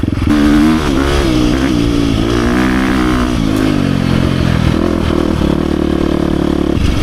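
A 2023 KTM 350 XC-F Factory Edition dirt bike with an FMF titanium exhaust revs loudly up close, its rough buzzing drone climbing and falling in pitch with rattling mechanical clatter.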